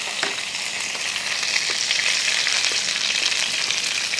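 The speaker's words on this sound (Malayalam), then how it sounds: "ആ നെയ്യ് ചൂടായതിന് ശേഷം കുറച്ച് കടുകൊന്ന് ഇട്ട് കൊടുക്കുക." Mustard seeds, two or three dried chillies and curry leaves frying in hot ghee for Kerala-style idli upma, a constant close crackling sizzle with occasional light stirring taps and no speech.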